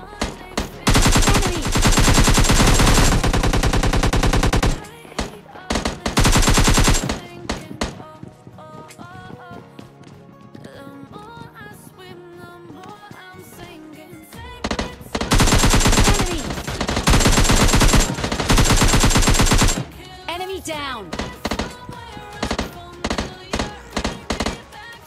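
Gunfire in the PUBG Lite battle royale game comes as sustained loud automatic bursts, several long dense volleys separated by quieter stretches of single shots and footsteps-like taps.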